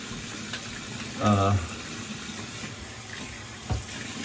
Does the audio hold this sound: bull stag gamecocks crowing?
no